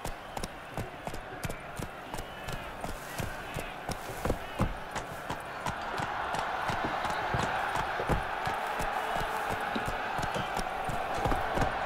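Hooves of the horse Roach in The Witcher III, a steady rapid clip-clop rhythm of hoofbeats that quickens into a denser gallop over a rising wash of movement noise.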